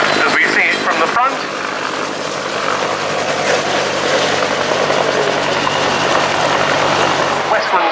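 Westland Sioux and Westland Scout helicopters at an air show give a loud, continuous rotor and engine roar with a sharp transient early on, while a voice talks over it.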